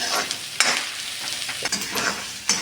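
Onions fry in a pan for a Punjabi lauki sabzi, crackling with a continuous close sizzle while a spoon scrapes and stirs in a few quick strokes.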